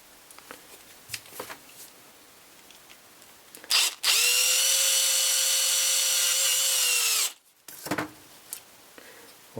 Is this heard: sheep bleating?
no